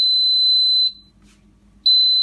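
Power AirFryer XL signalling it is done: a loud, steady high electronic beep holds for nearly a second, pauses briefly, then sounds again.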